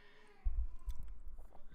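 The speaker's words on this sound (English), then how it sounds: "I don't know if you guys can hear that crying." A cat cries indoors, a short plaintive vocalization heard faintly and at a distance, with low thumping room noise beneath it.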